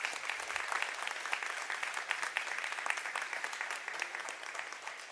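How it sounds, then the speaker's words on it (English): An audience at a business leadership masterclass claps steadily, a dense wash of applause that holds at an even level throughout. "So big round of applause to Kayla Demopoulos."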